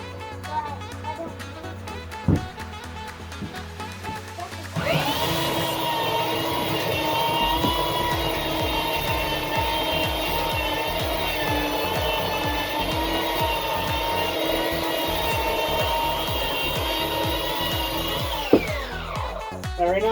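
Harbor Freight Chicago Electric 3x21 belt sander with 80-grit paper starts up and runs at a steady, loud motor whine with a rough, buzzing belt sound, close up, for about thirteen seconds before winding down, with no one talking.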